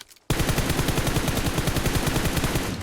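Loud automatic gunfire in the mobile battle-royale game PUBG Mobile, a fast unbroken stream of shots starting abruptly after a short silence and running nearly three seconds.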